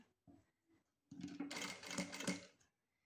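Sewing machine stitching curtain tape onto a curtain's lower row: a couple of short tentative bursts, then a steady loud whirring run for over a second before stopping.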